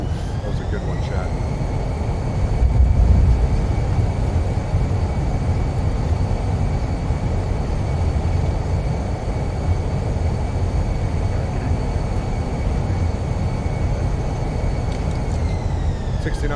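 A Fenix A320 deploys its thrust reversers on landing in Microsoft Flight Simulator, giving a steady, loud jet roar with a faint whine. The roar holds evenly through the whole stretch and swells briefly near the start.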